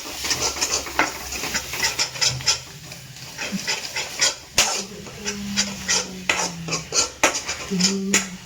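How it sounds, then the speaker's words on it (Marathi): Spices being stirred in hot oil for a spicy black-masala matki dish: a steady run of scraping, clinking strokes of a spoon against the pan, close and moderately loud, with a faint tonal background hum. "आपण मसाले टाकून परत एकदा त्याला तेल सुटेपर्यंत हलवून घेऊया"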